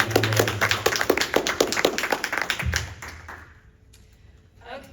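Audience at a Moms for Liberty forum with Brevard school board candidates breaks into a burst of steady, fairly close clapping for about three seconds, then it fades into quieter room sound.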